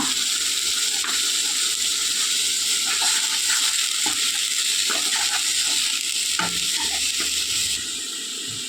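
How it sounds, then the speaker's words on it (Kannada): Steady close-up sizzling from a pan of frying onion paste as tomato paste goes in for chana masala, with scattered spoon scrapes and taps from stirring over the hiss and no voices. "ಇವಾಗ 1 ಟೊಮೆಟೊ ಪೇಸ್ಟ್ ಮಾಡಿದ್ದು ಹಾಕುವ"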